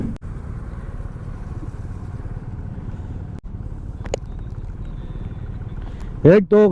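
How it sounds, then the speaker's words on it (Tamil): Street traffic waiting at a signal in Penang, Malaysia, with a constant low hum of idling engines and motorcycles close by, a few clanks, and a short horn-like honk near the end, under a voice talking. "நடு ரோட்டில் மலேசியாவில் நின்றுட்டு இருக்கோங்க பினாங்குங்கிற ஊரில் சிக்னல்ல டிராபிக்ல நின்றுட்டு இருக்கோம்"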